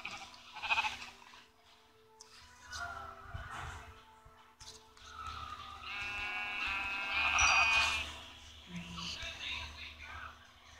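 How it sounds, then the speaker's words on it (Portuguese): Sheep in Minecraft bleat in a couple of short, nasal calls amid game sounds and background noise, with a person talking over them at low overall volume. "Vi que tem umas ovelhas aqui na frente"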